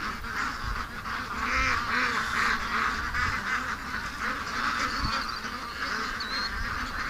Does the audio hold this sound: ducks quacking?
yes